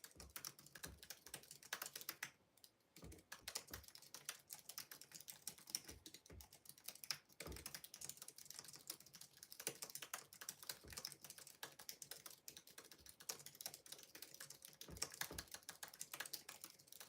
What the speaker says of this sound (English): You're vigorous typing.